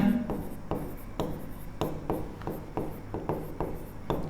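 Pen strokes scratch across paper during a maths lesson, a series of brief, close rhythmic scribbles with short pauses between them and no voices.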